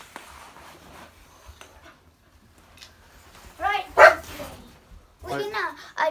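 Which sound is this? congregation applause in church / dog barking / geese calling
dog barking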